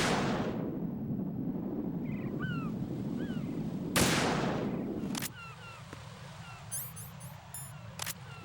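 Gunshots ring out in the video game Metal Gear Solid 2: two sharp, loud cracks a second apart amid outdoor ambience with chirping birds, followed by fainter clicks and chirps.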